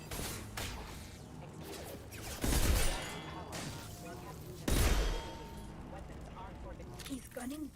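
Gunfire in the Mass Effect video game, two heavy blasts a couple of seconds apart over a busy layer of scuffling and clattering game sounds, with voices talking throughout.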